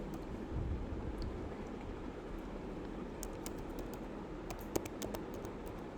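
An email address is typed on a computer keyboard as faint, quiet key clicks, sparse at first, then a quicker cluster of taps toward the end over a low room hiss.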